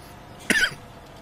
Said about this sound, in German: Ich muss mal eben husten, Entschuldigung.